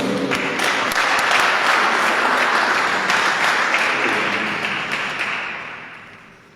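A church congregation at a Wednesday prayer service bursts into sustained applause, dense close clapping with a few sharp taps that fades away over the last seconds.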